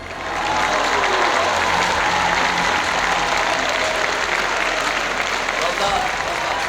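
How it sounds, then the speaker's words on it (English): Sustained audience applause for a singer at a live on-stage singing competition in London during Ramadan, a dense, steady wash of clapping that swells in within the first half-second and carries on strongly throughout. "Please give a heartfelt round of applause to Muhammad Abbas Jaffar."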